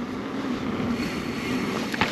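Wind rushes outdoors on a cold, blustery day, a steady broadband roar buffeting the microphone that stays constant and fairly loud throughout, with no talking.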